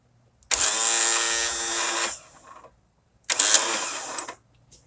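Starter on a zero turn lawnmower spinning without catching the flywheel, two loud whirring bursts of about one and a half seconds each separated by a short pause, with no engine firing.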